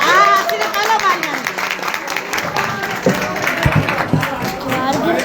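A gathering of people claps together in a dense, uneven burst of hand claps that carries across the whole stretch, with voices talking and calling over it.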